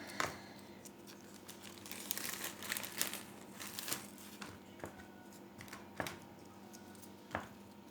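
Quiet, irregular crinkling of plastic bags, with soft rustles and a few sharper crackles spread throughout, no talking.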